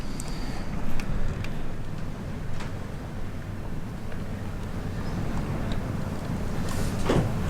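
A fierce wind blows outside an old hotel, heard as a constant, broad low rushing roar with occasional gusty swells and faint creaks, steady throughout with no talking.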